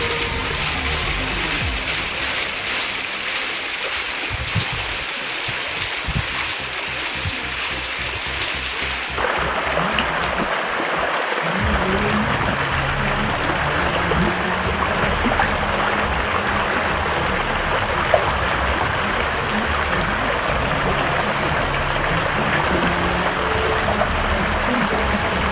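Loud, steady rushing of a waterfall in Qadaduma, water flowing over rocks in a continuous broadband roar that shifts slightly in character partway through, with no pause.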